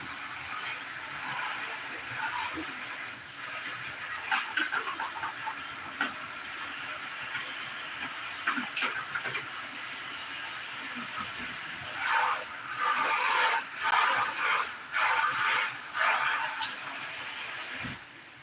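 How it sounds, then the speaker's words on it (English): A brand-new kitchen pan is rinsed under running water, a steady hissing spray that swells and breaks into louder splashy bursts toward the end, heard alone without talk. "We gotta wash our pan because it's brand new."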